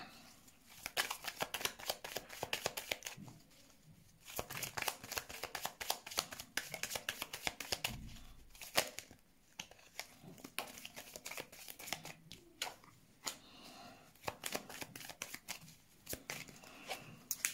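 Tarot cards are shuffled in quick, papery riffles and slaps, repeating in bursts near the listener. The sound is fairly faint with no talk.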